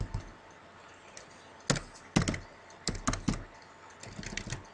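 Someone types a short entry on a computer keyboard: a few scattered keystrokes, then quick clustered bursts of clicking, close and clear with no talk over it.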